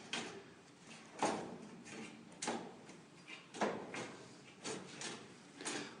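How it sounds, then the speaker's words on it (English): A cabinet drawer is pushed shut and snaps into its locked position, a series of five or six firm clacks spaced about a second apart, close and otherwise quiet. "Close the drawer to ensure operation."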